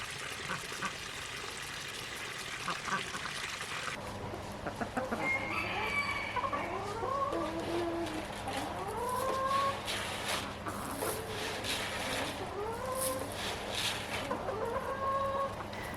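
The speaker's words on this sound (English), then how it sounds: "Now the chickens are out here on the hill" Several chickens cluck and call repeatedly nearby on a hill after a burst of noise, with rising squawks and an outdoor background hiss.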